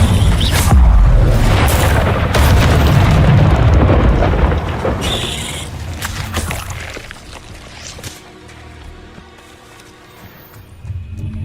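An Incendio fire spell cast in the Hogwarts Legacy video game bursts out as a loud, roaring whoosh with a deep boom, then fades gradually over several seconds into a quieter rumble.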